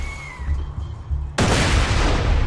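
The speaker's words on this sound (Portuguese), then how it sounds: "Explode as granada." A grenade explodes in Borderlands 2, a sudden loud broadband blast that sustains with debris noise after a quieter stretch of low rumble and faint voices.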